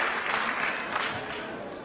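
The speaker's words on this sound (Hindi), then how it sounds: "मैं चाहूंगा कि जोरदार तालियां एक बार इनके लिए।" Applause for a guest at a human rights protection council program, a dense, steady wash of many hands clapping at once, held at an even level throughout without any break.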